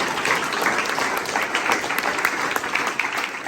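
Lively audience applause at a city event unveiling a new boxing ring in Sanger, a dense, steady patter of many clapping hands with small surges throughout.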